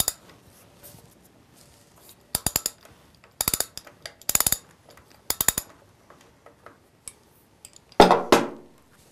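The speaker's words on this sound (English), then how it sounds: "Use a 1-inch socket or wrench to loosen and remove the output sensor." Socket ratchet loosening the output speed sensor on a Chrysler 46RE transmission, several short bursts of sharp metallic clicking close up, then a clattering metal knock at the end, with no speech.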